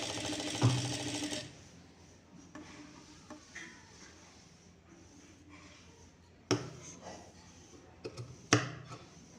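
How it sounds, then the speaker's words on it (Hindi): A sewing machine stitches the side parts of a fabric bow, a steady mechanical run at the start, then quieter handling with a few sharp knocks later. "इसके दोनों साइड के जो पार्ट्स हैं वो भी हम सिल देंगे।"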